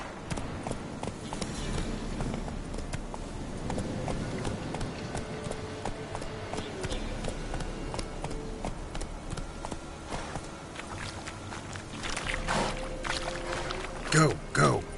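The horse Roach galloping in The Witcher 3, a rapid rhythmic patter of hooves that runs throughout, with a voice urging it on and heavier thuds near the end.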